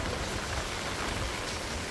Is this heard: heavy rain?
yes